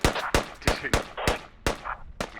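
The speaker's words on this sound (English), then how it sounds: "I've just walked past them being sniped from the hilltop." Sniper gunfire from a hilltop in a tactical video game: about seven sharp, loud, close cracks in an uneven rapid sequence, each followed by a brief decaying tail.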